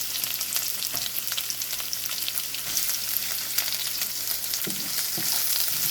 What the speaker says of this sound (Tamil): இது சின்ன வெங்காயமும் ஒரு பெரிய வெங்காயமும் சேர்த்து நல்லா நறுக்கி போட்டு இந்த மாதிரி நல்லா வதக்கிக்கணும்